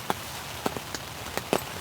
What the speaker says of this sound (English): This cold rain isn't gonna help matters at all.